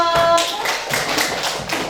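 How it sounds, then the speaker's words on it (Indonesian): A group of children clapping their hands in a classroom, a short burst of loud, uneven claps with a few distinct rhythmic beats, with faint background voices. "Kasih tepuk tangan dulu."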